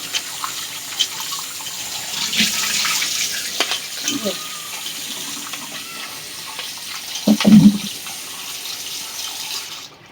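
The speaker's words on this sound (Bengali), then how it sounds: "এভাবে আমাদের 2-3 বার ঠান্ডা জল দিয়ে খুব ভালোভাবে এটা ধুয়ে নিতে হবে।" Soybean chunks washed under cold running tap water at a kitchen sink, a steady close splashing stream with brief louder gushes and handling clatter partway through, no speech.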